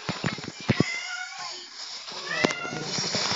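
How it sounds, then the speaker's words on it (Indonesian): A house cat meows for food, a few short, fairly close cries mixed in with a man's chatter and game sounds during a mobile gameplay session. "Kucing gua lagi minta makan"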